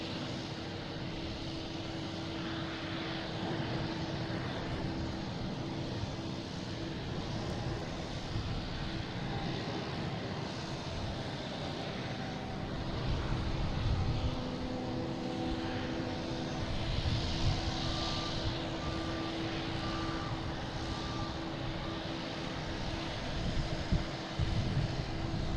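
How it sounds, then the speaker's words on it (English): JetBlue Airbus A220 taking off from Boston Logan, a steady broad engine roar held at moderate distance for the whole stretch, swelling slightly near the middle, with no talk over it. "JetBlue taking off, heading to Charleston"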